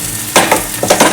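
Ground paste being stirred into okra pachadi in a pan, with a few quick scraping strokes and a soft sizzle, close and alone.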